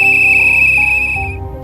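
A watchman's iron whistle blows one long, loud, shrill steady tone that holds and then fades at the end, heard alone without talk.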